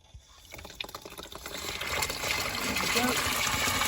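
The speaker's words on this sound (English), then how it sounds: "I'll switch on the water" Water rushing into central heating system pipes during a 3 port valve replacement, a steady trickling pour that builds from quiet to a louder, constant flow, with a brief spoken remark near the start.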